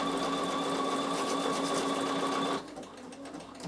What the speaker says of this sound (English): So I'm just going to sew, and it will stitch 2 patterns and stop.